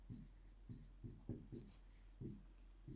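Handwriting on paper during a science lesson, rhythmic bursts of pen strokes roughly every half second, close and quiet, with a voice faintly present.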